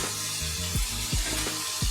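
Marinated chicken hits a hot pan for a chicken curry, giving a steady broadband sizzle with a few low thumps and clatters of the pieces and utensil, close and fairly loud with no talking.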